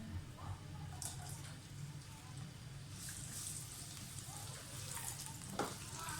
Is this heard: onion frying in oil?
yes